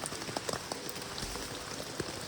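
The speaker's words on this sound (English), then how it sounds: "fortunately the rain's calmed down a little bit" Steady rain drums on a tent at a campsite in southeastern Queensland, a dense, even patter with faint scattered drops, distant-sounding and quiet, no voices.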